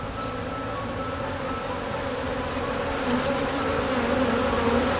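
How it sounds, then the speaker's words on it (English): Italian honey bees buzzing at an open hive while brood boxes are worked, a dense, continuous droning hum from many bees, close and steady throughout with no speech. "All of these guys are the same Italian bees"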